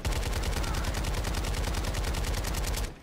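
Rapid automatic gunfire in a video game, one continuous fast rhythmic burst of shots lasting nearly three seconds before stopping abruptly.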